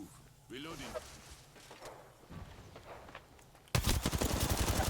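Rapid automatic gunfire in a battle royale video game, erupting loudly in the last second after a stretch of quieter game sounds and talk.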